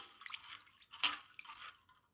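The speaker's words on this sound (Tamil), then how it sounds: "இதை நம்ம நல்லா வாஷ் பண்ணிக்கலாம்." Soaked chana dal being rinsed in water, heard as soft close splashing and dripping with one brief louder slosh, then fading to quiet.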